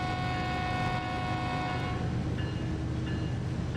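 An ES44C4 locomotive horn in Train Sim World 3 on BNSF Cajon Pass blares as a loud, sustained multi-tone chord over rumbling engine noise, briefly cutting out and resuming near the end.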